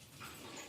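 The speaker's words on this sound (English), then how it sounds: "excuse my dogs, they're saying hello." Dogs in a home whimper and yelp faintly through the short stretch, a soft, high, whining sound set back in a quiet room with no talking.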